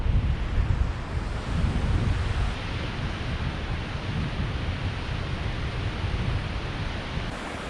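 Goðafoss waterfall river in Iceland rushing under heavy snow and wind, a dense, steady roar of water blended with wind buffeting the microphone, loud and continuous throughout with no talk.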